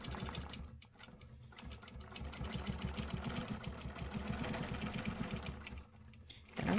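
Sewing machine stitching a quilted stencil line guided along a ruler, a steady rapid mechanical chatter running continuously near and loud, dipping briefly before resuming, with no talking.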